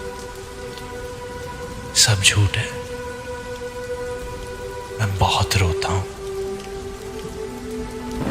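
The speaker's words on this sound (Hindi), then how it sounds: "और आज भी बारिश हो रही है" Steady rain falls as an even, continuous hiss through the whole stretch, while someone speaks in two short bursts over it and soft tonal music plays underneath.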